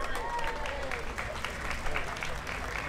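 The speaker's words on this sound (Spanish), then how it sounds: "Fuerte aplauso para Chairman Curry." Applause for a Democratic chairman at an outdoor Peruvian flag-raising ceremony in Paterson, a continuous crowd clapping at moderate distance with a voice faintly present underneath.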